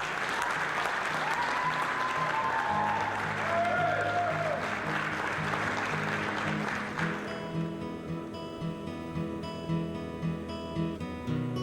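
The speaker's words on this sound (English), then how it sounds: "let's have a big round of applause for competitor number 8, Ray Taylor." Audience applause greets a bodybuilding competitor in his first contest, a dense sustained clapping that carries on steadily under music for the full length.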